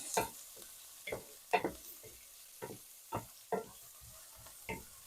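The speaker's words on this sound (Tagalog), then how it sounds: "So I'll just stir fry this." Pansit canton noodles being stir-fried in a pan, about nine distinct scraping tosses at a steady rhythm, close and fairly quiet, with a low sizzle between strokes.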